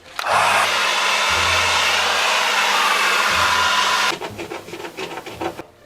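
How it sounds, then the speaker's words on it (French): A hair dryer blows steadily and loudly over a prop-making mixture for a film accessory, a dense broadband whoosh with a low motor hum, then cuts off after about four seconds, leaving faint rubbing and handling noises. "On prend un sèche-cheveux et c'est parti."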